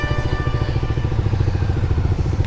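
A motorcycle engine, only just started on a winter ride, idles close by with a steady, continuous low throbbing rumble and light mechanical clatter.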